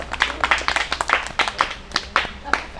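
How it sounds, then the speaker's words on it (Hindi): Scattered handclaps from a small class audience cheering a student, uneven bursts of clapping over roughly three seconds with voices murmuring underneath. "भैया जी के लिए तालियां बजाओ"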